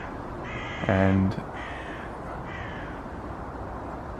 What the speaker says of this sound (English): 3 or 4 crows up there, and a couple of magpies